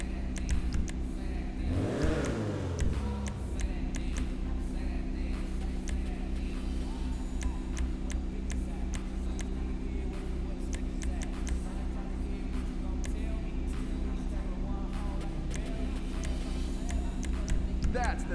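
Karin 190Z engine in GTA Online, a sustained game-car drone with a sweeping rev rising and falling early on, then a steady idle hum with clicking interface sounds, music-like tones over it.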